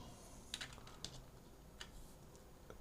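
A computer keyboard clicks in a few sparse, quiet keystrokes against a faint background hum, typed while working in Houdini software.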